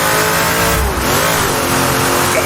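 A V8 race car engine in Assetto Corsa at the Mont-Tremblant circuit revs loud and close, a brief dip and a climbing throttle blip, with a strong buzzing harmonic tone throughout.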